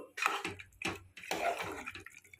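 Water splashes and pours into a pot of mutton curry in short bursts, three separate pours with brief pauses between them, close by.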